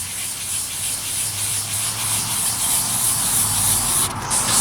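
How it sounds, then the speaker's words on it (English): Water sprays onto sandpaper while a faded, fogged headlight lens is wet-sanded, giving a steady close hiss with a low rubbing undertone that holds for almost five seconds. "And I also like to spray the sandpaper."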